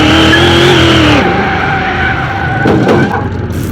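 The 7500-horsepower car nicknamed Satan's Scream launches hard, its engine roaring loud and close with a rising whine while the tires squeal and skid. The engine note drops after about a second, and the roar continues with more squealing.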